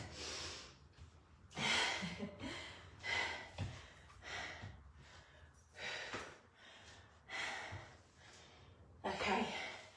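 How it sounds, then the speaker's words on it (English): Heavy puffing and panting after a HIIT workout, repeated loud breaths in uneven bursts over about ten seconds, close and alone. "Oh, puffing and panting."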